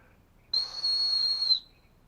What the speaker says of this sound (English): Also has another cute little whistle.